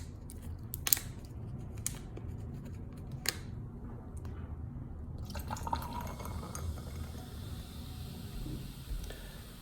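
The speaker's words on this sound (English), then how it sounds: "I'm going to load up my glass with ice" Raak Gasseuse Cool Blue soda pours over ice in a glass: a few sharp cubes clink near the start, then a steady close fizzing hiss of carbonation builds and continues to the end, with no talking.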